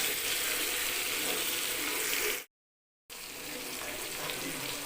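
Vanjaram fish fries in hot oil, a steady loud hiss and crackle of sizzling that cuts out briefly and then resumes just as strongly.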